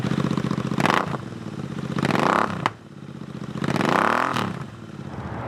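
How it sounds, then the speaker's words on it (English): A Royal Enfield INT 650 twin with S&S mufflers and baffles removed, revved three times close by, each rev swelling to a loud throaty roar then dropping back to a rumbling idle. "here's the bike that the baffle's been removed"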